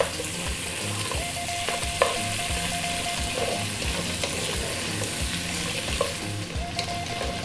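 Potato and carrot pieces fry over a lively high heat for a vegetable curry, giving a steady close sizzle with occasional clinks and scrapes of stirring throughout.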